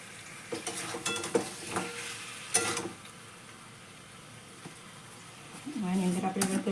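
Chicken, a country hen, cooking in a little oil in a pan, with a soft steady sizzle, a few scraping stir and utensil clatters near the start, and a louder bubbling sizzle rising near the end.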